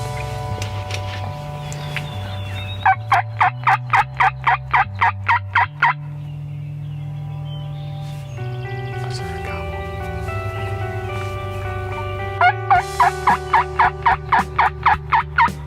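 Wild turkeys gobbling on a spring morning hunt in Michigan, two loud bursts of rapid rattling gobbles, close and clear, separated by a stretch of steady background tones.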